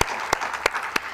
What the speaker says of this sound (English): I think they need also a round of applause.